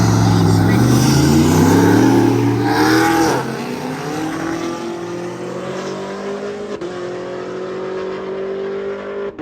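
Street race cars, a Mopar against a Ford, roar with loud, rising engine revs as they accelerate. The pitch climbs through gear changes, then the sound recedes into a sustained high-revving drone.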